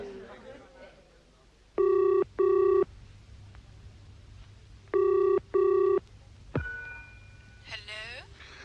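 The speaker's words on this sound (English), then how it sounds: "Do you mind if I telephone" An old-fashioned telephone bell rings twice in paired double bursts, clear and close, followed by a click of the receiver being lifted, with faint room sound between rings.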